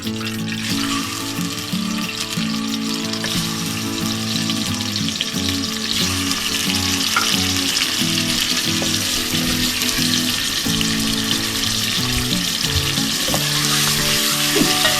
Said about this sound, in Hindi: ऑयल हमारा हो चुका है गरम। अब हम इसमें चिकन डाल देंगे।